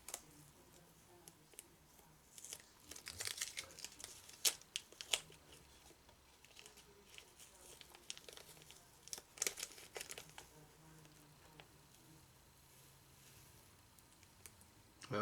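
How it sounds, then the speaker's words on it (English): Paper masking tape peels gently off a silver spray-painted model spaceship, giving quiet crinkling, ticking and rustling bursts scattered over several seconds, close to the microphone with no talking. "I am just going to gently remove these masks now. Start with the paper tape, being very gentle."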